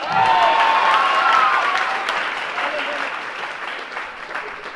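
A congregation at a church youth gathering in Nepal claps together: a loud burst of dense applause from a crowd that gradually thins and fades over a few seconds.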